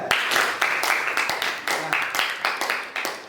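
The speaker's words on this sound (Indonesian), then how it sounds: "Tepuk tangan untuk Nanda." A small group claps in a classroom-style gathering, a steady run of fairly close, rhythmic claps that carries on evenly for several seconds.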